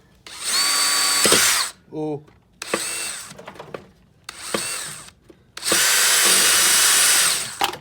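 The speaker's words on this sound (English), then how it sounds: "Drill time" A power drill whirs in several bursts, starting and stopping with pauses between, ending in a longer run, while removing the front end of a BMW E36 M3; a voice briefly exclaims in one gap.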